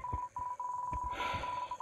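Phone dialing in the video game Undertale: a steady string of electronic dial tones beeps in quick succession, with soft rhythmic low thumps underneath and a brief hiss of static near the end.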